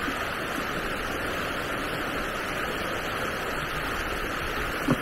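Fast-flowing water at Webster Falls waterfall near Hamilton, Ontario, heard as a loud, steady, continuous rushing roar close by, with no speech.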